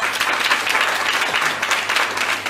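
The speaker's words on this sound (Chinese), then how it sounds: "所以我们再一次热烈掌声感谢王院长给我们的打造。" Sustained, dense applause fills a session of Taiwan's Legislative Yuan, a steady wash of many hands clapping at once with no gaps, close and fairly loud throughout.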